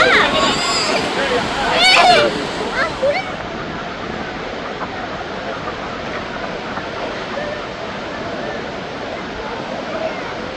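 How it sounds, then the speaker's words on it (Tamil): Steady, broad rush of the Agaya Gangai waterfall in the Kolli Hills, falling from about 300 feet, with a voice talking over it at the start. "சூப்பர்பான அருவி."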